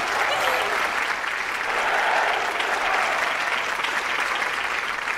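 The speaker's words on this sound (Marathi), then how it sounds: "टाळ्या वाजवा" A studio audience at a courtroom-style TV talk show applauds loudly and steadily throughout, with thick, sustained clapping and no pauses.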